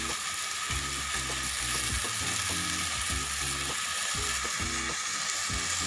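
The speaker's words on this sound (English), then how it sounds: "Tsaka gigisahin pa natin yan." Marinated pork sautéing in a pan, a steady dense sizzle running throughout with low, repeated stirring or scraping knocks from a utensil against the pan, close and fairly loud, with no talking.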